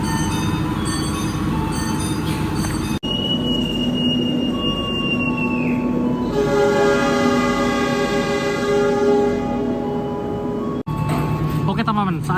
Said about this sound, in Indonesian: saat ini perjalanan kereta api Blambangan Express tiba di stasiun Rogo Jambi